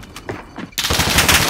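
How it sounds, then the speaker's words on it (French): Enemy gunfire in Call of Duty Modern Warfare, loud and close: scattered shots at first, then a sustained burst of rapid automatic fire, with no talk over it. "je me prends des balles de l'ennemi"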